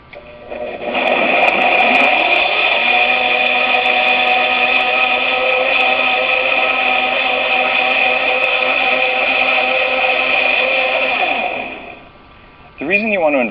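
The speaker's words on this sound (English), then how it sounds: "This is a Blendtec blender." A Blendtec blender runs at full power with a steady, loud, high whirring drone for about ten seconds, then winds down briefly and spins up again.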